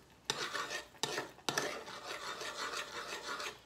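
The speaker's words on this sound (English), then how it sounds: "my grits are boiling, so I have to start stirring" Instant grits boiling in a pot are stirred with a utensil: three sharp scrapes against the pot lead into a steady, close rasping swirl with a faint bubbling underneath, and no voices.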